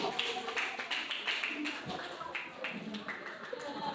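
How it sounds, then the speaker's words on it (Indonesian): Students clapping in an Islamic studies class, a burst of many quick uneven hand claps close by, mixed with light chatter and laughter from the room. "Tepuk tangan buat."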